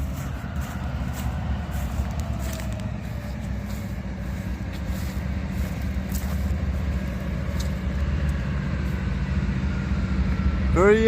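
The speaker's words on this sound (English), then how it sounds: "we got another train coming in. Sounds like it's slowing up" A freight train led by three diesel locomotives, a couple of GEs and an EMD, rolls in and slows. It gives a steady, heavy low rumble that grows slightly louder and closer over the stretch.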